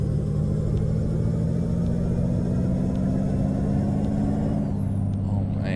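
Deep, steady engine rumble of a Peterbilt 389 truck in Euro Truck Simulator 2, holding a constant drone close by, with a brief hiss toward the end.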